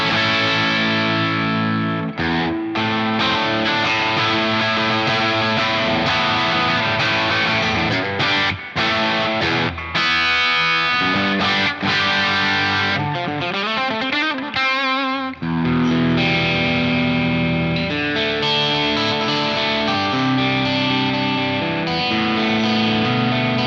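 Ibanez GRGR330EX electric guitar played through a moderate-gain distorted tone with a bit of grit, a long passage of riffs, sustained chords and bends, loud and close with no talking.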